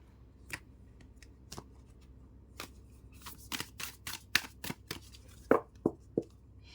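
Tarot cards shuffled and tapped at close range, with scattered single sharp flicks that build into a quicker cluster of crisp card snaps near the end, fairly quiet against a still room with no talking.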